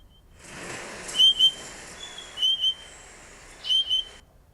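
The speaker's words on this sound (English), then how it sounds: "It is the spotted pardalote." Recorded call of a spotted pardalote, a small Australian bird: three pairs of high, thin piping notes spaced about a second apart, clear over a soft background hiss.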